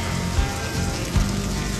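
Steady rain falls on a surface outdoors, a dense, even hiss of drops with a couple of brief low thumps and no voices.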